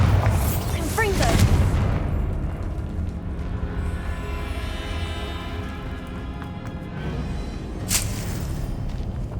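Bombarda and Confringo spell blasts from Hogwarts Legacy, a few deep booming explosions with long rumbling tails, close and loud, against a steady game soundscape while a voice calls out spell names.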